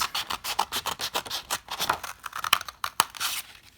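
Scissors snip through folded paper in a quick run of crisp, close cuts, each a short papery crunch, with no talking.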